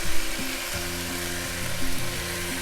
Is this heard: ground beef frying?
yes